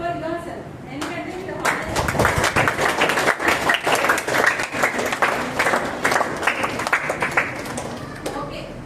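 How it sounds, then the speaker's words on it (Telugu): Audience applause at a Nasha Mukt Bharat Abhiyan gathering, dense steady clapping from many hands swelling after a brief pause and continuing close and loud for several seconds, with a voice audible at the start. "first of all clap for your self"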